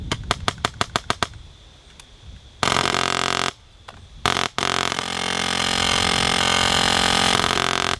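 An airsoft M4 fires 0.4 g BBs at 45 rounds per second, first as a string of sharp single shots, then as loud, near, sustained full-auto buzzing bursts separated by short pauses.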